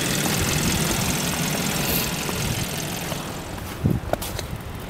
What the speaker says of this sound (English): This engine does run great.